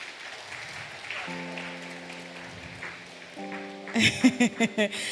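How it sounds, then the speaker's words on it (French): A church congregation applauding during a Sunday service, faint crowd noise and sustained organ-like tones before a burst of rhythmic clapping near the end. "Les hommes, acclamez pour vous-même."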